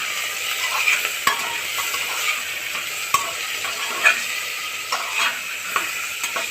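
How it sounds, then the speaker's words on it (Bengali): Mutton pieces with salt and spices being stirred in a pan for Bengali mutton kosha, a steady close sizzle with intermittent spatula scrapes and clinks against the metal, no voices. "এবার কিছুক্ষণ নাড়ব।"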